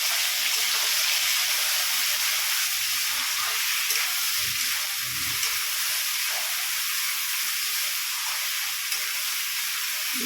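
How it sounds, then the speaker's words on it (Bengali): Cumin, ginger, garlic and green chilli paste sizzle steadily in hot oil while being sautéed for a Bengali potol dorma. The hiss stays loud and even throughout, with faint low stirring movements underneath. "ভালো করে কষিয়ে নেব।"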